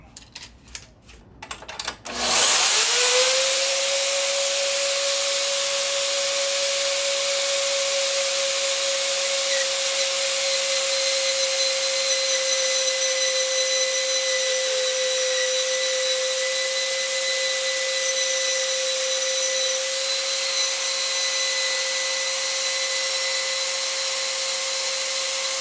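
Hercules benchtop band saw cutting a 1.5-inch metal pipe: a brief clatter as it starts, then a steady loud whine with a constant high tone and broadband hiss, running unchanged for over twenty seconds.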